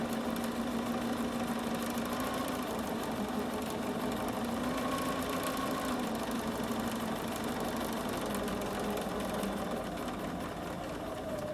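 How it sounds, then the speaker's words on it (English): A sewing machine runs steadily as it stay-stitches around a patchwork heart, a continuous, close mechanical hum and whir with no pauses and no talking. "So this is just a stay stitch really, that's all it is"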